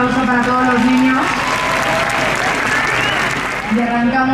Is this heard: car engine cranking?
no